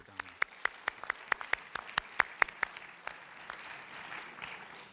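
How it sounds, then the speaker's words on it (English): An audience at an evening lecture event gives a short round of applause. Scattered, sharp individual claps ring out distinctly in a modest room, then thin into softer, fading clapping. "Let's have a round of applause for Donna."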